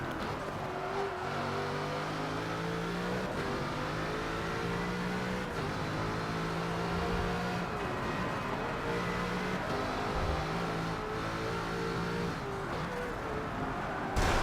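A Bugatti Chiron in Forza 7 with engine modifications drones steadily and loud throughout, its stepped harmonic bands rising and falling through gear changes, mixing a low growl with a higher whine.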